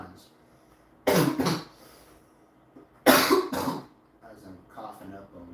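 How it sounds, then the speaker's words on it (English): Two sharp bursts of coughing, each a quick cluster of harsh coughs, close to the listener with quieter breathing between. "I'm coughing up a lung over here"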